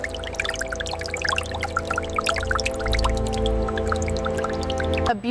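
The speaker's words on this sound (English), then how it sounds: "A beautiful pour into the secondary mixer." Molten beeswax pours steadily into a secondary mixer in a candle factory, a continuous close liquid stream with dense dripping and splattering over a low machinery hum.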